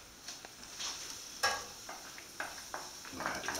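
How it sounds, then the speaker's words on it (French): Onions sautéing in olive oil in a frying pan, a soft steady sizzle broken by several sharp scrapes and stirring clatters, close and fairly quiet. "j'ai de l'huile d'olive dans ma poêle et nous allons commencer par le commencement, c'est-à-dire nous allons faire revenir les oignons."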